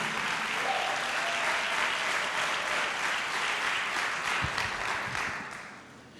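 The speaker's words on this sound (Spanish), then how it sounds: "Se le va a aplaudir, un aplauso al Rey." A church congregation applauds steadily in a large room during a sermon, the clapping staying dense and even before tapering off toward the end.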